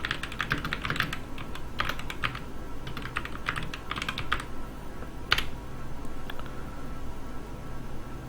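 Rapid bursts of computer keyboard typing, crisp clustered keystrokes with short pauses between runs, close and fairly quiet, no voices.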